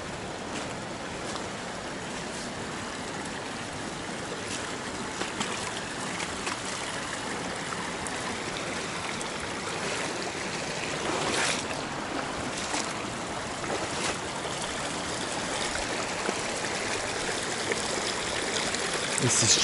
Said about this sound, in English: The river is much faster and bigger.